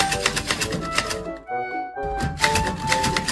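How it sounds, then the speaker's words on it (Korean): An old-fashioned manual typewriter used to build typed artwork, with rapid, crisp keystrokes in a steady clatter that pauses briefly before resuming, close and loud with no voices. "대신 구식 타자기로만 작품을 완성하죠."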